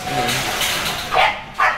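Dogs at a breeding kennel give a few short barks over a busy background of people talking nearby.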